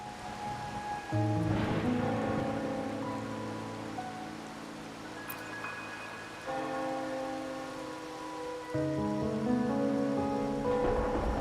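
Steady night rainfall in the video game Wuthering Waves, a soft constant patter beneath tonal game music with sustained notes and chords that shift and swell.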